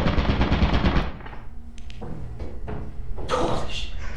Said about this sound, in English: there's a turret right inside of here!